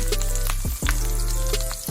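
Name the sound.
butter sizzling in a pan with steak seasoning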